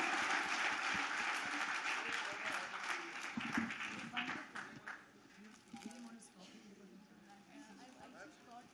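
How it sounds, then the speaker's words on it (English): Audience applause and a standing ovation at a national K-12 school leadership conference and merit awards ceremony in India, loud dense clapping for the first few seconds, then fading to thinner, scattered claps under crowd murmur. "Stand up and give a standing ovation."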